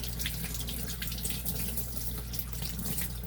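A clogged aquarium sponge filter gets rinsed under a running tap, a steady, close rush of water splashing into the sink with no letup and no voices.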